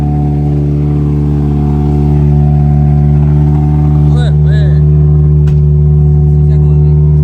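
A Toyota Vitz with a 2ZZ engine runs loud and close, holding a dense, steady droning roar that swells slightly partway through, with brief voice sounds near the middle.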